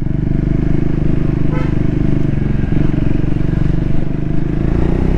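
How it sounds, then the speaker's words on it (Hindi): A Triumph Speed 400 motorcycle engine pulls steadily and loudly in third gear on a ride, with a constant droning exhaust note and wind rush throughout. "engine is running very very smooth"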